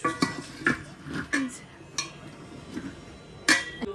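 Chopped chicken pieces for a home-cooked stew are set down into a metal cooking pot, giving a handful of separate clinks and knocks, fairly close and quiet, with no talk over them.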